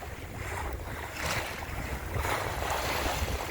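Gentle water lapping against a sailboat hull on a calm sea, a steady washing murmur with soft swells and some wind noise on the microphone throughout.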